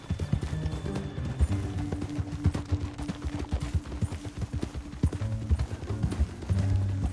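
Rapid, steady hoofbeats of a galloping horse in the video game Red Dead Redemption 2 pound throughout, close and loud, with a brief snort or whinny near the end.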